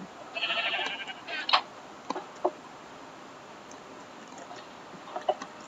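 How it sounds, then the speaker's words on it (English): Blocky video game sheep bleat in a quiet scene, one drawn-out baa followed by a few shorter, sharper bleats scattered across the moment, moderately close and otherwise alone. "Shut up, sheep."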